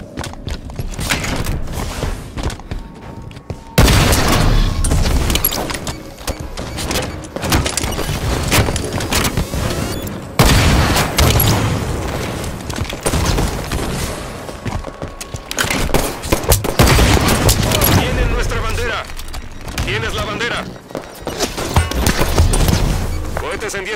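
Halo 5: Guardians arena capture-the-flag match with near-constant rapid gunfire, impacts and blasts layered over one another, while an in-game announcer voice calls out events at intervals.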